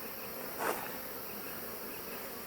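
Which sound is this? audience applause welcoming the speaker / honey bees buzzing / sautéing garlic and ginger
honey bees buzzing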